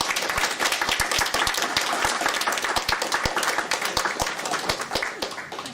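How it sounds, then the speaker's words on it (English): Audience applause for a guest of honour at a fantasy convention interview, a mix of scattered distinct claps over a denser background of clapping, close and steady throughout before tapering slightly. "Please join me in a round of applause."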